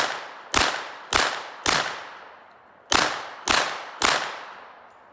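Six sharp, loud suppressed 10mm shots from a threaded Rock Island Armory Tac Ultra pistol, fired in two quick groups of three, each crack trailing off in a short decay, no talking.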